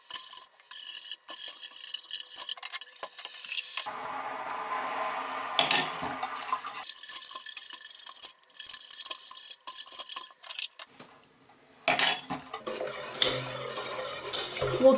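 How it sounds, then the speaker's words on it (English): A spoon stirs sugar into a cloudy liquid mixture being saturated for crystal growing, giving steady scraping and clinking against the container, with short pauses and renewed bursts of stirring, close and clear, no talking. "as you stir it, you should see it completely dissolve"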